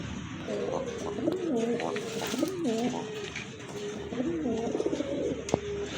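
Several pigeons, including fancy breeds like satin, coo in repeated rolling phrases at a market, moderately close, over a low background murmur of people talking.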